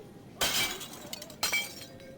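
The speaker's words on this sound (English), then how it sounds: "So the glass can break." Glass shatters twice in the video game Quadrilateral Cowboy, two sharp crashing bursts about a second apart, each trailing off into light tinkling.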